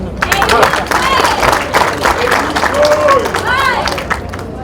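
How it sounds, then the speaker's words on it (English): Audience clapping at a town hall meeting in Boston, scattered crowd applause with whoops and cheers, voices and chatter mixed in over the busy hall noise. "Clap for that."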